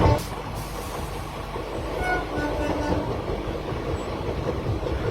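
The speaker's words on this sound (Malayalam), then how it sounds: "ദുർഗ് സ്റ്റേഷനിൽ വണ്ടി ഒരു ചെറിയ രോദനത്തോടെ നിരങ്ങി നിൽക്കുകയാണ്" A train rumbles and rattles as it slows into Durg railway station in Chhattisgarh, with faint thin squeals above a dense, continuous low clatter and no clear voices.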